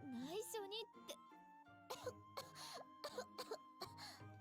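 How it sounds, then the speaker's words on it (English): A girl coughs repeatedly in short, close bursts, with voiced vocal sounds before and after and soft music underneath. "Cough, cough, cough."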